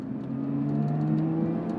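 A 3.5-liter supercharged Toyota V6 engine in a Lotus Evora GT runs with a steady, smooth mid-pitched drone, holding near-constant revs with a slight swell, close and continuous.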